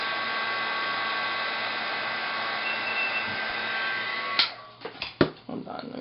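A heat tool warming embossing powder gives a steady, even blowing whoosh for about four seconds, then cuts off, leaving a few handling knocks and clatters.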